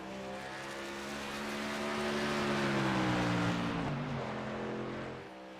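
A racing truck's engine roars down a racetrack backstretch, a steady loud drone with a rising then falling pitch as it sweeps past close by and fades, no talk over it.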